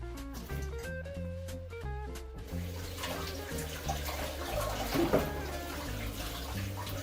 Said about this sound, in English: I washed the vegetables